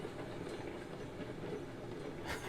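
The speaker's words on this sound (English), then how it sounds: "we're going to stop the train here at the top of the hill." A train rolls along rails in the Railroads Online game, its wheels rumbling steadily and close by with faint rhythmic clatter, and no talk over it.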